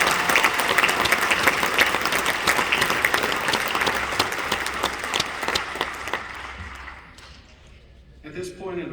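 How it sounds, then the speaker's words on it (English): An audience at a Lexington, Kentucky Fire Department Class 70 fire academy graduation breaks into dense, sustained clapping that slowly thins out and fades toward the end. "Please give them a round of applause."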